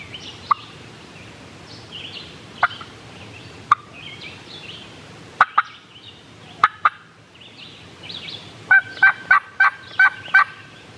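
Wild turkey gobbler calling on a mountain during a public-land spring hunt: several single gobbles spaced across the woods, then a rapid closer burst of repeated gobbles near the end, with no talking.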